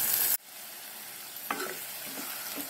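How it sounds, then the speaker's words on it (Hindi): Masala with tomato puree frying in oil in a kadhai, a steady close sizzle that drops sharply after a loud opening burst, with a few soft stirring scrapes later. "हमारा मसाला अच्छे से भून गया है"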